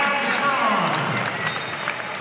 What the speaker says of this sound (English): Nice crowd reaction.